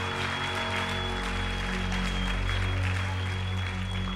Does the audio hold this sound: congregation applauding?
yes